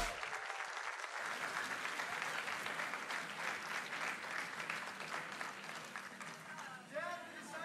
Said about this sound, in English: Let me get one more round of applause for that amazing run of Blasphemous from Teddy Rass.